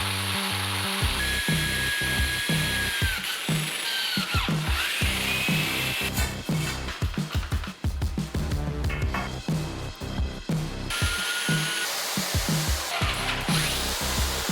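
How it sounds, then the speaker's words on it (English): A power drill whines and grinds through a metal bar in repeated bursts, with sharp clanks and scraping between passes, close and loud. "I'm going to drill these 2 holes all the way through this bar"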